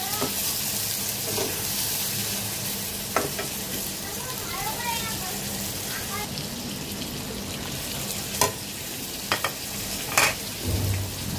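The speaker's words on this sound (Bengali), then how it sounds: "পেঁয়াজ দিলাম, পেঁয়াজটা ভাজবো" Onions frying in a pan with oil before prawns are added, heard as a continuous hissing sizzle with occasional stirring clatter and sharp pops, and faint voices in the background.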